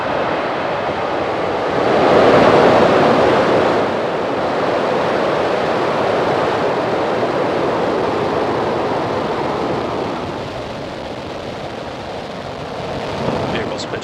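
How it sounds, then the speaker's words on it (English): A SpaceX rocket ignites and lifts off on a Starlink mission, a continuous loud, broadband roar that swells and then holds steady for the whole span, with no clear talking. "Ignition and liftoff."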